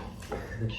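A cat gives a short, faint meow, a brief rising cry heard alone in a quiet room.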